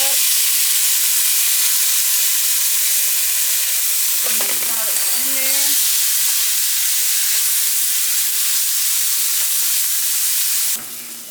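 Carrot sautéing in sesame oil in a pan gives a loud, steady sizzle that holds throughout. A few brief scraping stir sounds come midway, and a sharp clatter lands near the end.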